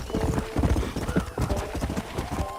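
A horse gallops in Red Dead Redemption with a rapid, rhythmic clip-clop of hooves at close range, while a whinny and faint game ambience sit underneath.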